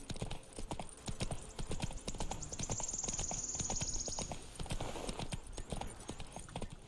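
Roach, a horse in The Witcher 3, gallops in a steady rapid drumming of hooves under a brief neigh, with faint ambient game sound beneath.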